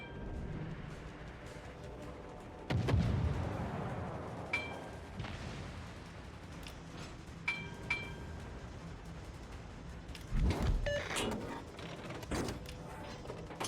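Torpedoes fired from an Imperial Japanese Navy destroyer in a naval combat game: muffled thumps and clanks over steady ship and sea rumble, with a couple of louder launches spaced several seconds apart.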